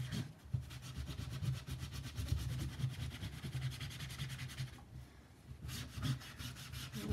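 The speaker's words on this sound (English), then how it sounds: "So I am just wiping this off." Cloth wiping black transfer paste off a wooden quote board, a continuous close rubbing with fast, regular back-and-forth strokes, pausing briefly near the end before resuming.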